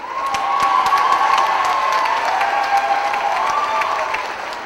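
Graduates at a USC public policy commencement ceremony receive loud, sustained crowd applause mixed with cheering and a few raised voices, swelling and then easing toward the end.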